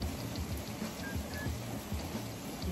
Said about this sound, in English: Wow, it is raining so hard.